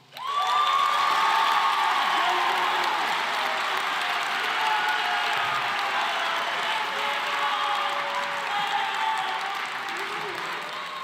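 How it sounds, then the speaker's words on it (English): A large high school graduation audience applauds the class of 2024, a sustained, dense wash of clapping with scattered cheers that holds steady throughout at moderate distance. "let's get one last round of applause for the class of 24"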